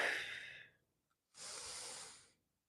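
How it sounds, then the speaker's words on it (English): Two soft, breathy exhales come from a dancer working with a resistance band, the first fading out and the second following after a short silent pause, close and quiet. "Exhale."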